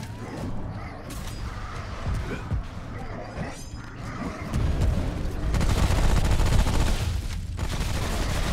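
Rapid gunfire and impacts from shooting enemies in the co-op video game Remnant: From the Ashes, dense bursts and booms that grow louder and heavier toward the end, with player voices mixed in.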